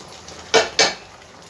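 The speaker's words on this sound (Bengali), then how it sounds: "দিয়ে আবার একটু আমি ঢাকনা দিয়ে দেবো" A metal lid set onto a cooking pan on a gas stove during vegetarian papad curry preparation, giving two quick clattering clinks close by, with quiet kitchen background and no talk.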